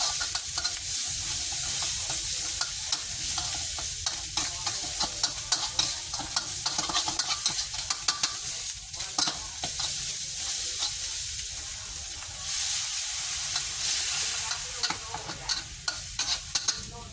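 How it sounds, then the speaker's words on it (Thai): Curry paste stir-fried with kaffir lime leaves in a hot pan for a Thai catfish chu chee, a loud, dense, continuous sizzle broken by frequent scraping spatula strokes, close up with no talking. "ผัดทุกอย่างให้เข้ากันครับ ใช้เวลาประมาณ1นาที"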